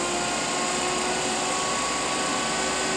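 Vacuum pump of a March PX-250 plasma etcher pumping down its chamber, a steady loud broadband whir with faint tonal whines, continuous and close.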